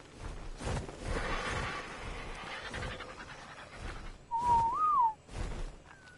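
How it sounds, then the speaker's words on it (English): A short rising-and-falling whistle command sounds in the Ark Survival Ascended video game, clear and fairly loud over panting and other game noise, with a faint second whistle starting near the end. "Don't know why the whistle commands don't work as well in this game as they did before."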